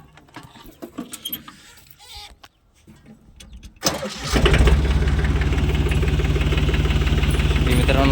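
A tractor engine is cranked and catches, starting from quiet clicks and small handling noises, then bursting into a loud, steady, close-up idle rumble that holds to the end.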